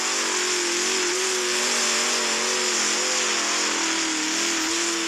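Upgraded race car engine in a video game race drones loudly and steadily, its pitch wavering slightly up and down as it holds revs, alone without talk for the full stretch.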